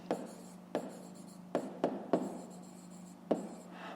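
A pen scratches across paper in a math exercise, short strokes broken by a handful of sharp taps as it meets the page, close and quiet with no voice.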